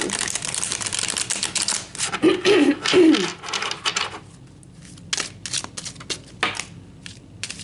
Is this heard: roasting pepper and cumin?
no